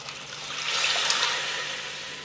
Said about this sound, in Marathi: आपण आता त्यामध्ये जे पाणी आहे ना जे उसळीचं तेही टाकून देऊ